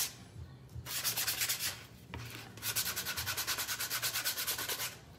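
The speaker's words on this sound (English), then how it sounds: "I'm gonna take the sandpaper again and just kind of go over the edges." Sandpaper rubbed over the edges of a wooden craft piece, a steady run of quick scratchy back-and-forth strokes, close and clear, with a short pause before a faster, rhythmic second burst.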